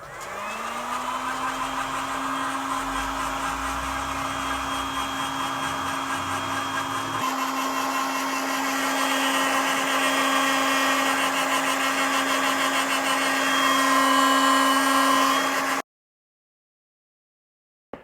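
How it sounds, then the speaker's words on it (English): Steady hot-air whine of a heat gun blowing on window tint of a Lexus IS300 SportCross, a constant close drone that shifts slightly in pitch partway through, then cuts off abruptly near the end. "Recommend using the heat gun"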